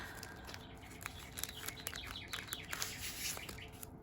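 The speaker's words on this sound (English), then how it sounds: "That's our clock. It sings bird songs on the hour." A bird-song clock chimes the hour, faint chirps and tweets trickling through a hissy indoor background, with no voices.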